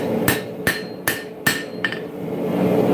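Four sharp ringing hammer blows on a dagger blade's bevel at a forge, evenly spaced about every 0.4 seconds, followed by a lighter tap and a steady background hum of the shop.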